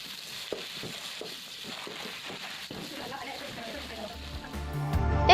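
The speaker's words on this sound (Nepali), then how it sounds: "अब चाउचाउ हालेर सबैलाई राम्रोसँग मिक्स गर्नुहोस्" Cabbage and instant noodles stir-fried in a pan, with soft sizzling and scraping stirring sounds, and a louder clatter of the pan near the end. A voice talks over the cooking.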